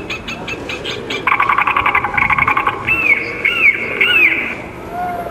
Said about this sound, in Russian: Это специальный биоакустический прибор. Он имитирует голоса хищных птиц.